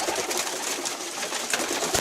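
Pigeons on a coop roof coo and flutter softly outdoors, with faint scattered calls over a light, steady background.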